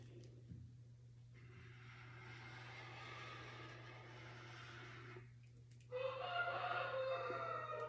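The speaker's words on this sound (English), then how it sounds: "You are going to hear my chickens." Backyard chickens cluck and call in a low, busy chorus that swells at the start and grows louder and clearer near the end, heard over a steady electrical hum.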